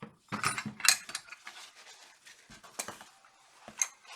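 A flare wrench ratcheting on the fuel lines of a Porsche 993 during a fuel and air filter change, close metallic clicks and scraping in irregular bursts, with no talking.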